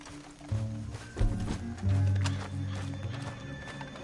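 Horse hooves clop in Red Dead Redemption 2, several uneven thumping steps close by with a snort or whinny mixed in, over quiet game ambience.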